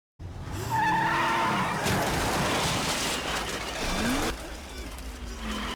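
In a movie scene, a car's tires squeal in a long, loud skid just before it hits a bike that cuts across its path, with engine noise underneath.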